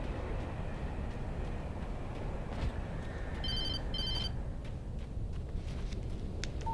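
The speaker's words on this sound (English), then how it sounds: "Phone call." A telephone rings in the video game Alan Wake, two short bursts of bright electronic trilling heard at moderate volume over a continuous low ambient rumble, with no voices.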